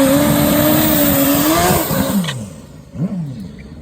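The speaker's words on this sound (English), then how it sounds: "Big, beefy burnout." Suzuki Hayabusa turbo drag bike doing a big burnout: loud, sustained high-revving engine roar with tire squeal for about two seconds, then the revs drop away into a couple of short throttle blips.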